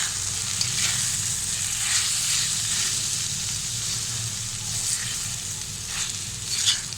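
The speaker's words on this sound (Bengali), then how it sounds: "এখন দিয়ে দেবো সিদ্ধ করে রাখা সেমাইগুলি। ভালোভাবে মিশিয়ে নেব।" Boiled vermicelli is stirred into sauce in a hot pan over high heat for chicken chow mein, giving a loud, continuous sizzle with soft stirring swishes throughout.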